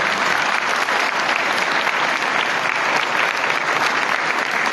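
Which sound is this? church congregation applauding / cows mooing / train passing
church congregation applauding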